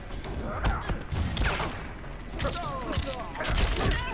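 Gunfire in the Mortal Kombat 11 fighting game: sharp shots from Erron Black during a ranked match, heard among hits and game effects with someone talking over them.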